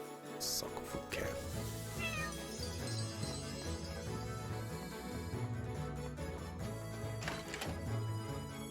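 A cat meows in the video game Chained Echoes, a few short mews set over looping game music and chiming effects, fairly quiet.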